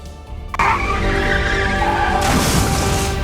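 A motorbike skids in a road accident with a sudden harsh onset, followed by a sustained scraping, squealing slide that lasts several seconds and then breaks into a rougher noisy tail.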